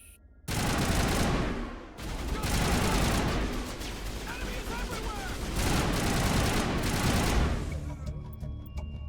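Video game shootout with dense, rapid gunfire: sustained bursts of automatic weapons and booms crackling loudly for several seconds, dipping briefly then resuming, with a voice speaking over parts of it.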